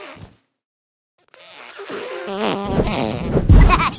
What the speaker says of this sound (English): What is the sound of one anus farting? Now you know.